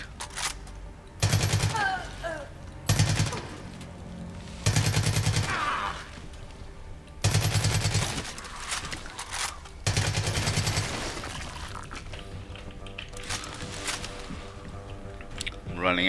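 Bursts of rapid automatic gunfire from the Far Cry 5 video game, several loud volleys separated by short pauses, with game effects between them.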